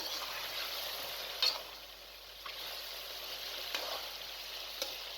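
Chicken karahi cooking in oil in a pan, a faint steady sizzle with a few light ticks and pops, quiet and continuous with no talking.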